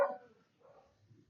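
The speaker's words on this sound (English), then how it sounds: "and the dog barking all the time." A dog gives a faint single bark followed by soft, muffled yips and whimpering sounds, distant and quiet with no talking.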